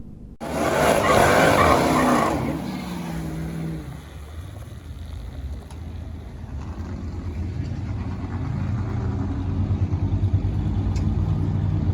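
A Dodge Redeye makes a drag run on the night its axle broke. The engine roars loudly for about two seconds at launch, then drops to a lower, rough, sustained rumble that slowly builds.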